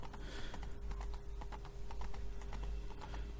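A horse's hooves clop in The Witcher 3: Blood and Wine, a faint, quick, irregular patter of hoofbeats over a low steady hum, with no voice heard.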